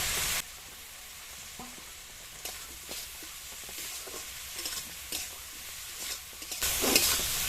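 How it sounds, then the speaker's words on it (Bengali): Potatoes that were fried earlier are tipped into a sizzling spice paste for a pumpkin and prawn dish, a steady frying hiss with scraping stirs that swells louder at the end. "এবার এর মধ্যে ভেজে রাখা আলুগুলো দিয়ে দেবো।"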